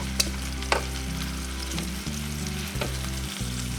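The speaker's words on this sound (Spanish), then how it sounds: "Y colocamos nuestro pollo. Y dejaremos hasta que se doren por todos lados." Chicken pieces browning in a pan of oil, a steady loud sizzle and crackle with a few sharp pops, close by and with no voices over it.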